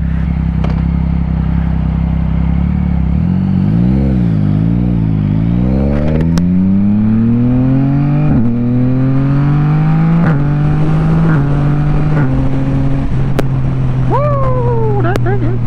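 Car driving along a road, loud engine rising and falling through several gear changes as it accelerates, with steady road and cabin rumble and a few short clicks.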